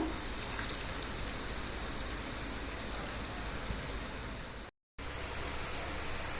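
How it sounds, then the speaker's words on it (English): Dahi vada fry in hot oil over a medium flame, giving a soft, even sizzle and crackle that runs steadily, cuts out for a split second, then resumes at the same low level. "we have to fry it on a medium flame so that the inside portion also is well cooked"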